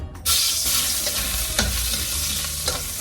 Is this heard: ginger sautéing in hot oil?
yes